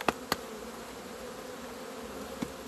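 Honeybees hum steadily around an opened beehive affected by mould, a continuous close buzz broken by a few sharp clicks and knocks from handling the frames.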